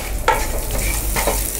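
Lemon rice mixture is stirred in a pan, with two short spoon scrapes over a soft, steady sizzle. The sound is close and there is no talk.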